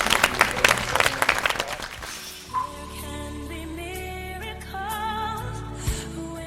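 A television studio audience gives a short burst of clapping that fades after about two seconds, giving way to sustained musical tones and effects.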